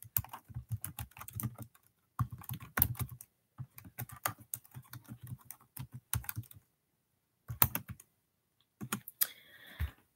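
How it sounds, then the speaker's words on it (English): A website address being typed on a computer keyboard: clusters of close, crisp key clicks come in several runs separated by short pauses, with a final brief flurry. "Let me type it here."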